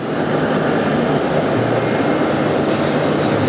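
A CRJ-900 jet airliner landing at JFK: a steady, loud, broad engine roar with a whooshing wind texture, holding even throughout with no pauses or voices.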